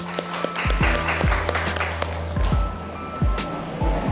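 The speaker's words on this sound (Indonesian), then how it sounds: "Tepuk tangan untuk Bapak Abdurrahman Tirza." An audience at a Sony WH-1000XM5 headphone launch event applauds steadily in an indoor hall, with dense clapping throughout and a host's voice cutting in briefly over the applause.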